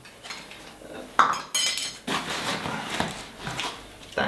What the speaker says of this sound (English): This is my Kubilka 21 Kuksa and an Alpkit titanium spoon, a long one so I can eat my food and stir my coffee.